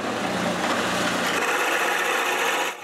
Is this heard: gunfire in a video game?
no